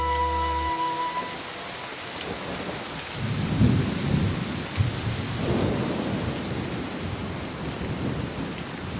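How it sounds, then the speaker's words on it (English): Heavy spring rain with thunder over a blackwater river: a steady wash of rainfall throughout, broken by deep, rolling thunder rumbles that swell in the middle and fade slowly, with no voices. "After heavy spring rains,"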